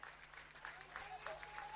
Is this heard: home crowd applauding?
yes